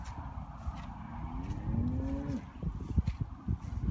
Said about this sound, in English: There's three pastures of these Brangus cows.